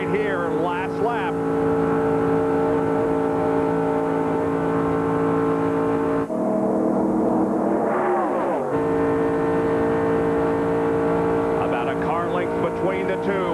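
NASCAR Busch Grand National race cars roar around Daytona International Speedway on the last lap of the 1996 Goody's 300, a loud continuous engine drone with a commentator talking over it throughout.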